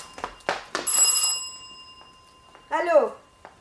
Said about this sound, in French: Mais non, c'est le téléphone.